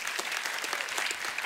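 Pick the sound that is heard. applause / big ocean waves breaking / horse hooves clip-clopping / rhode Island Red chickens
applause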